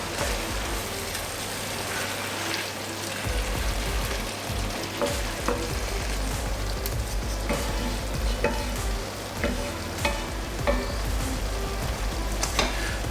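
Turkey meat and leeks sizzling steadily in a hot pan, with repeated scraping stirs and clicks of a utensil against the metal, close and continuous.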